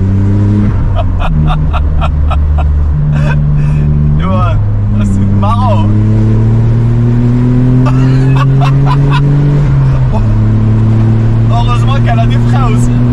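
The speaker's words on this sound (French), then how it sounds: "Vous entendez le moteur?" A Smart car engine revs repeatedly on a test drive, loud and close, pitch climbing and dropping through gear changes, with someone talking over it.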